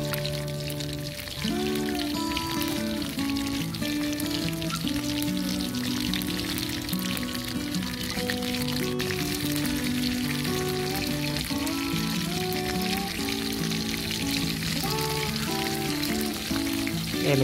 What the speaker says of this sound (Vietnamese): Đây mình mới vừa chiên xong nha mọi người.